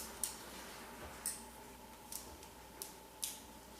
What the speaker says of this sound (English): So you just want to kind of just barely go back and forth with your scissors.